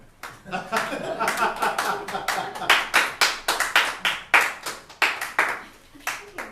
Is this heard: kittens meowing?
no